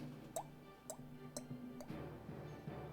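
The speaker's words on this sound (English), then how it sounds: "As things start dripping on you" Water drips quietly, about five distinct drops falling at fairly even intervals over a low, steady background hum.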